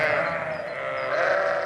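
Sheep bleating on a Cumbrian hillside in the Lake District, a few overlapping bleats forming a steady, fairly close, moderately loud chorus.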